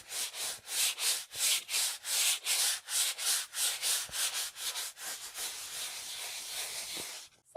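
Sanding a vintage metal patio tabletop by hand, with rhythmic back-and-forth rasping strokes, roughly three per second, close and steady, easing slightly toward the end with no talking.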